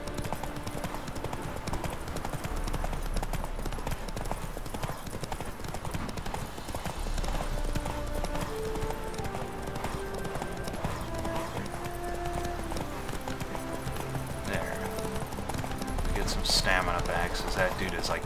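Steady clip-clop of horse hooves walking at an even pace in The Witcher 3: Wild Hunt, under continuous game music with occasional voices talking over it.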